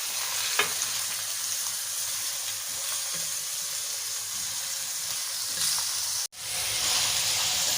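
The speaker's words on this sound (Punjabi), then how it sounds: "ਹੁਣ ਅਸੀਂ ਇਹਨੂੰ ਥੋੜ੍ਹੀ ਦੇਰ ਤੱਕ ਫਰਾਈ ਕਰਨਾ ਹੈ।" Chopped onions and minced meat fry in a pan with a steady, close sizzle and occasional stirring scrapes, then a brief sharp break before the sizzle resumes.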